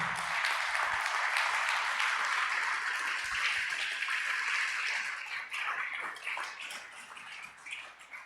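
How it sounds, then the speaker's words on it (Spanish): A church congregation applauds, a dense, steady wash of clapping that holds strong for several seconds and then gradually thins toward the end. "Denle un aplauso al Señor."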